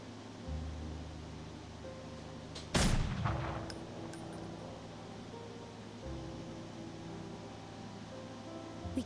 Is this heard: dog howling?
no